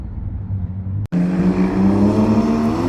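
A car engine at an autocross event revs up sharply after a brief cut, settling into a loud, steady, close-up drone with rising harmonic tones.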